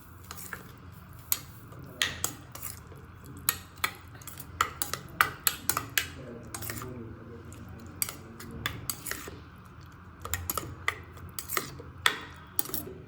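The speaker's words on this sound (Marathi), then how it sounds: "आता आपण तडका हा चटणीवर टाकणार आहे। चांगलं मिक्स करून घेऊया।" A spoon stirs tempering into roasted tomato chutney, making sharp, irregular metallic clinks and scrapes against the pan, fairly close and moderately loud, with brief pauses between bursts.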